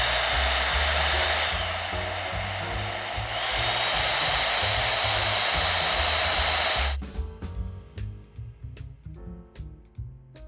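An Agaro blow dry brush runs with a steady, loud airy whir for about seven seconds, then cuts off, leaving quieter handling clatter and small knocks.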